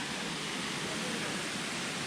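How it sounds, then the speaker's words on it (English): A small jungle river near Erawan Waterfall in Kanchanaburi pours with a constant, full hiss of running water that stays loud and unchanging throughout. "Nice little river running through the jungle."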